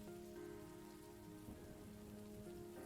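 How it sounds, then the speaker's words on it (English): Steady rain patters on a surface in a soft, continuous wash, with no voices heard. "Is the rain too loud?"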